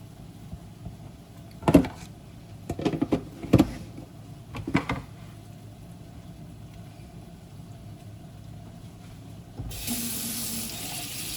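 A kitchen tap runs water in a home setting while lunch is prepared. First come a few sharp knocks and clatters, then a quiet stretch, then a steady hiss of flowing water near the end.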